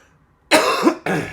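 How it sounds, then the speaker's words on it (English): Two sharp dry coughs close to the microphone, one after the other, following a moment of near silence. "all I've developed is a dry cough"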